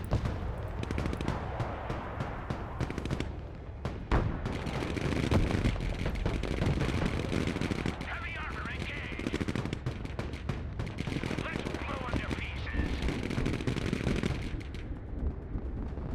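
Heavy gunfire rattles through a Broken Arrow video game battle, dense bursts of automatic fire and booming explosions stacked close together, loud and nearly continuous with short lulls.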